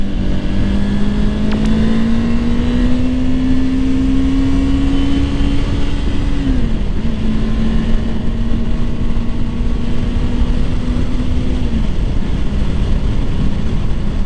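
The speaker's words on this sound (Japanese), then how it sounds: "ギア落として合流しましょう。" Kawasaki Ninja 400 motorcycle accelerating onto a road to merge, a loud, steady engine drone climbing in pitch with two brief drops at gear changes, heavy wind rush throughout and no talk.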